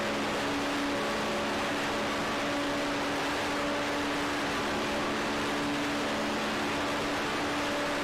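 A Formula Renault 3.5 race car climbing through Eau Rouge and Raidillon at Spa-Francorchamps, its engine a constant, loud onboard roar with steady droning tones under broadband wind and road noise, no voices.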